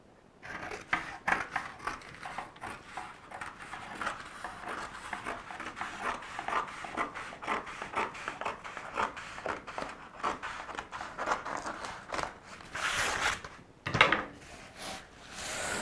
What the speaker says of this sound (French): Et je vais pouvoir couper ma toile sur cette ligne.